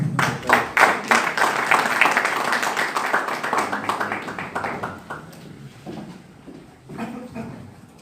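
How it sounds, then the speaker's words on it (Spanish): An audience at the Centro Cultural Benjamín Carrión breaks into close, dense clapping for Leonardo Hidalgo. The applause is loud at first, thins out after about five seconds, then picks up briefly before fading. "Demos un fuerte aplauso para Leonardo Hidalgo."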